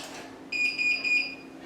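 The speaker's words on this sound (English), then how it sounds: "When you reverse, you'll hear a beeping horn." Three quick electronic beeps from a folding mobility scooter's reverse warning pulse in a row, high-pitched and close, followed by a short tail of quiet.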